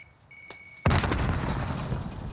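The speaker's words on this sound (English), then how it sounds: "why did that grenade sound like it came from our side?" A grenade in a video game blasts suddenly after a faint beeping tone, a loud, heavy boom whose rumble rolls on and lingers to the end.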